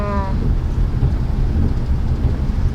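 Light drizzle falling on the road during a trip near Rajapolah, a steady, loud hiss of rain mixed with rumbling traffic or wind noise, with a brief tonal beep at the start and no speech.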